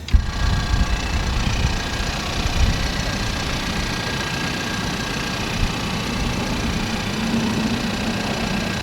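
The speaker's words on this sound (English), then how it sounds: "It's got this gnarly whine," A 2022 Ford Maverick truck idling with a high-pitched direct injection pump whine over a steady, even engine drone, close and continuous with no talking.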